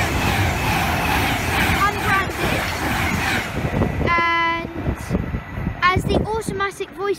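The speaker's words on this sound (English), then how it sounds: "Avanti West Coast 390 to London Euston." An Avanti West Coast Class 390 heading to London Euston passes through Berkhamsted station, a rushing rumble that fades, followed by a two-tone station chime and a platform announcement voice.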